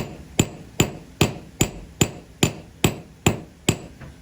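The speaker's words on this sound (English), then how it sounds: "I'm going to set it here on the anvil. I'm going to hammer between those marks." Metal struck with a hammer on an anvil during jewelry forging, ten sharp ringing blows at a steady, even rhythm, close and loud with no talking.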